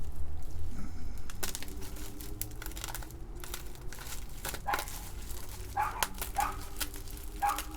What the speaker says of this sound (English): Hear the dogs outside barking.